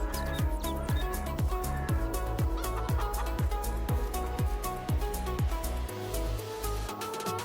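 Chickens at a coop in Farming Simulator 22, a steady run of repeated clucking calls over a continuous background hum, close and loud, with no talk.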